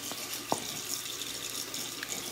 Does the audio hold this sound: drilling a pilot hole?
no